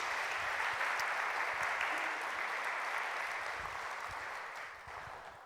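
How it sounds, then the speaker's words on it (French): A church congregation applauds steadily at a Christian service, a broad wash of clapping heard from a little distance that fades slightly toward the end. "je voudrais qu'on puisse les applaudir et les remercier ainsi, s'il vous plaît"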